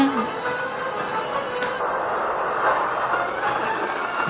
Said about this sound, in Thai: รถไฟความเร็วสูงครับ